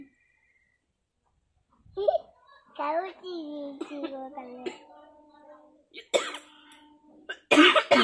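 Someone coughs a few harsh, abrupt times in an outdoor home setting, after a stretch of a person speaking.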